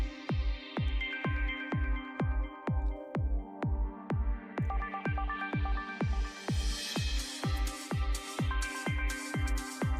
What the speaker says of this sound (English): It sounds like that old classic PlayStation 2 racing music.